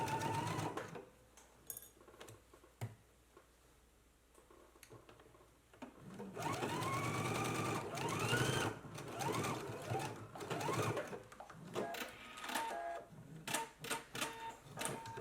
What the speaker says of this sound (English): now we can go ahead and stitch using a 5/8 inch seam allowance